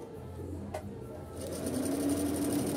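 Singer 2305 sewing machine sewing a zigzag stitch, a quiet close whirring that starts after a brief pause and runs steadily to the end.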